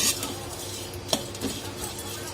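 Dried prawns roasting in a hot pan over low to medium heat, with a steady soft sizzle and occasional stirring clinks of a utensil against the pan, heard up close with no talk.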